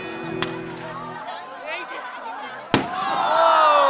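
Fireworks burst over a stadium crowd, with two sharp, loud bangs standing out against a bed of crowd chatter and cheering.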